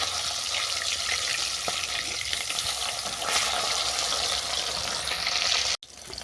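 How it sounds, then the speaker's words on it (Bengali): Fish fries in hot mustard oil while being turned to brown both sides, a dense, steady, loud sizzle that runs without pause and cuts out for an instant near the end. "এরপর মাছগুলো আমি উল্টো পাল্টে বাদামি করে ভেজে নিচ্ছি"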